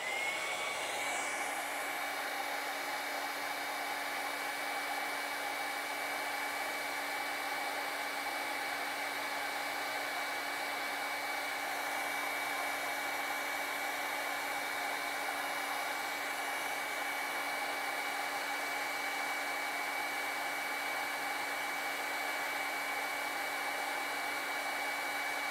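A hair dryer blows steadily and loudly on acrylic paint on a Christmas ornament painting, one unbroken whirring drone with a fixed tone from start to finish and no voices.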